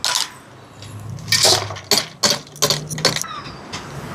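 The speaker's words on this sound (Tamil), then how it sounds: "இதில் பருப்பை கழுவி எடுத்துக்கொண்டு வந்துருக்கிறேன்." Washed lentils for dal are tipped into a cooking pot, a rattling pour followed by several sharp clinks and scrapes of metal, close and fairly loud with no voices.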